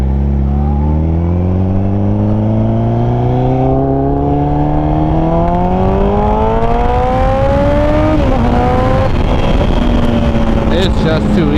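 A Kawasaki ZX14R motorcycle pulls hard under acceleration, its engine note climbing steadily through the gears with a brief shift near the end, loud and close over steady wind rush, while a rider talks throughout.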